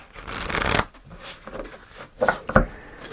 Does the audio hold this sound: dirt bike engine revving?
no